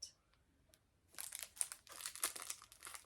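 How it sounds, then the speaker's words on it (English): Sealed plastic packaging being opened: near-silence for about a second, then a run of close, sharp crinkling and crackling bursts that continue to the end. "Sorry for the crinkling."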